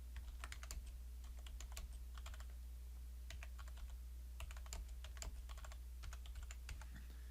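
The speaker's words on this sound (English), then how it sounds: "And now I can go ahead and start typing in my text." Quick, irregular clacking of keys on a computer keyboard, steady bursts of typing with short pauses, close and fairly quiet over a low hum.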